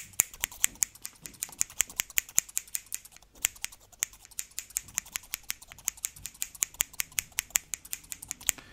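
Scissors snipped close to the microphone as an ASMR trigger, a rapid series of sharp, crisp clicks repeating in an even rhythm with short pauses, alone and clear.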